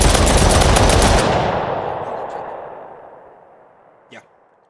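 Loud burst of automatic gunfire from a first-person zombie shooter built in Unreal Engine 5, filling the first second then fading into a long reverberant tail, with one brief sharp click near the end.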